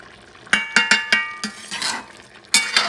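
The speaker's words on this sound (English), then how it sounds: "And I'm going to mix it up." A metal spoon stirs spices into Persian chicken stew in a pot, giving a series of bright clinks and scrapes against the pot, some spaced apart and a couple in quick pairs, close and loud with no talking.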